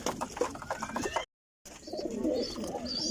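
Pigeons in a rooftop loft coo softly while they eat, low rounded calls repeating close by, broken by a brief silent gap before the cooing resumes.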